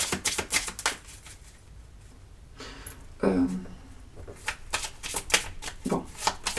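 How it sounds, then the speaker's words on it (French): A deck of tarot cards is shuffled and cut during a reading, rapid fluttering riffles and sharp card slaps in bursts, close by, with a short quieter pause midway. "13 cartes, on va faire la coupe."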